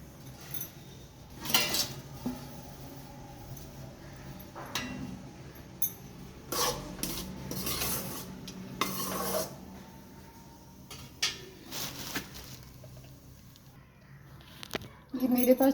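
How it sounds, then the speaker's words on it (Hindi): Peanuts roasting in a pan at home, heard as intermittent rattling scrapes and clinks of a utensil moving the nuts, close and moderately loud with quieter gaps between, while someone talks at times. "ये मेरे पास थोड़ी सी मूंगफली रखी थी, अब मैं इसको भून रही हूँ"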